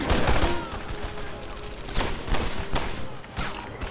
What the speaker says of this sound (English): the 64 round magazine allowed me to fire for quite a while without reloading